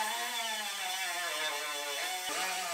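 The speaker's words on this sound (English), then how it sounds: "So this side we'll just grind them out." An angle grinder grinds out welds on a Ford Explorer Limited AWD during collision repair, a loud steady high-pitched whine with a slight dip in pitch as it bites into the metal, and no talking.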